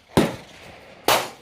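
Two loud, sharp gunshots at an outdoor gun range, each a sudden blast with a short decaying tail, spaced about a second apart.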